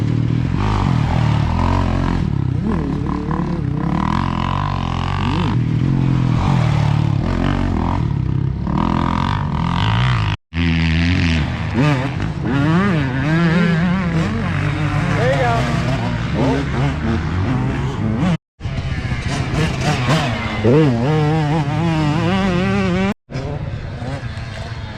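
A motocross bike revs and strains through a muddy corner, its engine loud and close with surging throttle and a few brief cutouts, while a voice talks over it.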